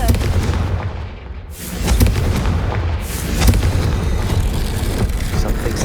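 A Confringo fire spell bursts in the Hogwarts video game, a booming blast with low rumble and crackling debris under a continuous dense game soundscape, with a second hit near the middle.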